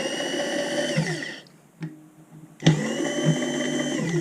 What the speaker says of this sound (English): That's the clutch going in.